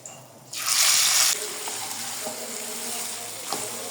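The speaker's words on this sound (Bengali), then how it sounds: "চিকেন ভালো করে আমি নেড়ে নিয়েছি" Chicken is stirred and fried in a pan with cinnamon, cardamom, cloves and bay leaves, starting with a loud, hissing sizzle burst that eases into a steady, softer frying crackle with occasional faint knocks.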